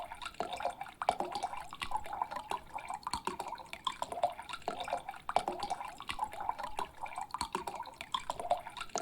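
Liquid pouring in the video game Card Shark, a continuous trickle with rhythmic dripping and gurgling pulses, fairly quiet and steady throughout.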